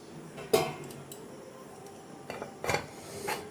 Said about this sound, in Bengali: এবার আমি ঢাকনাটা তুলে দিচ্ছি